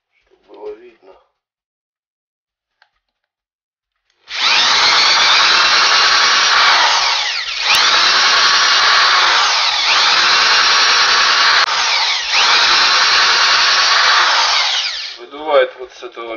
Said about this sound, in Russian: Выдувает вот с этого места стружку, то что вылетает из-под сверла.